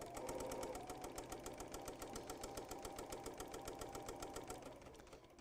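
A sewing machine stitches a pennant flag in a fast, even run of mechanical clicks that holds steady and fades slightly near the end, with no talk over it.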